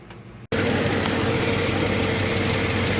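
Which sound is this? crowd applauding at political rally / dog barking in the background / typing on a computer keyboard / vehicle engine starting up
vehicle engine starting up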